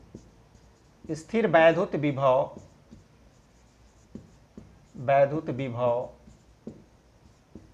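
Writing on a board during a Class 12 physics lesson on electrostatics: faint scratching strokes sit under and between stretches of a teacher's speech.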